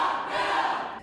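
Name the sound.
protesters booing loudly and chanting outside the room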